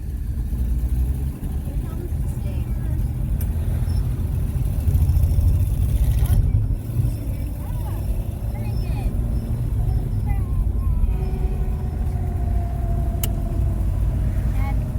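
Cars pass in traffic with a steady, close engine and tire rumble that swells briefly in the middle, while people talk under the road noise.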